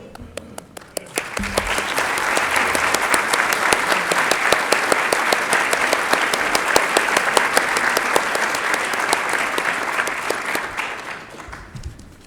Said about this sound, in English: Let's have all the current Circle of Builders in the room stand for a round of applause.